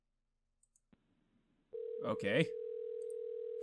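Telephone dial tone in the Hello Neighbor game, a steady continuous hum that starts abruptly after a few faint clicks and holds to the end, with a brief spoken word over it.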